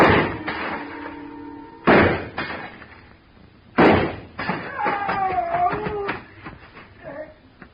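Gunshots shattering a glass showcase in a store, staged as a radio drama effect: sharp, loud impacts at intervals followed by ringing, tinkling debris, with some background sound between the hits.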